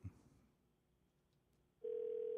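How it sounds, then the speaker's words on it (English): An outgoing call from a radio studio phone: a faint quiet line, then a steady, loud ringback tone starts partway through and holds to the end. "Okay, it's ringing."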